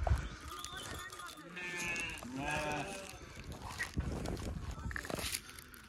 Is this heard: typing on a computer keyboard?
no